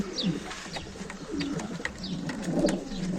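Pigeons coo repeatedly in soft, throaty bursts, several birds close by in a breeding loft, with faint chirps and rustling in between.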